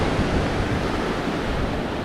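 Rough ocean surf crashing onto a rocky shoreline strewn with loose coconut-sized rocks, a dense, loud, continuous roar with wind noise buffeting the microphone and no voices.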